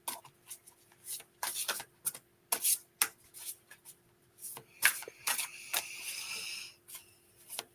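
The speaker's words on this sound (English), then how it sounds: "I'm going to shuffle our cards" A deck of cards being shuffled in quick bursts of riffling and sliding, close and fairly quiet, with short pauses between the bursts.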